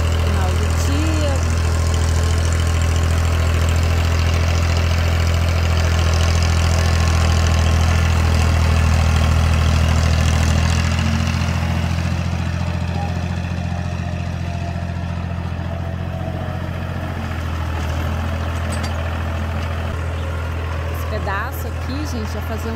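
A tractor engine runs steadily at the end of a day of plowing a field on a small farm, with a deep, loud low rumble that eases slightly partway through and then settles at a lower, continuous idle.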